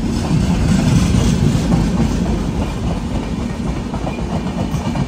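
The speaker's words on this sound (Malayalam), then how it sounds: "നമ്മുടെ ട്രെയിൻ ഇവിടുന്ന് എടുത്തിരിക്കുകയാണ്." Sampark Kranti Express rolling along, heard from inside a second AC coach: a steady, loud rumble with soft wheel clatter, unbroken throughout and with no voices.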